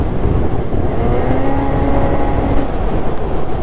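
A Ski-Doo Gen 5 snowmobile engine, running the stock muffler and reworked clutching, drones steadily at a cruising pace, loud and close throughout with a constant low rumble and a faint steady whine.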